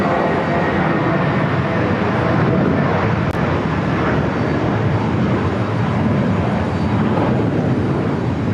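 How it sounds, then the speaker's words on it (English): A JetBlue A320 jet airliner takes off from JFK airport bound for West Palm Beach, giving a steady, loud, broadband engine roar that holds without a break throughout. "That flight taken off at JetBlue Flight 125 heading to West Palm Beach, Florida, the A320."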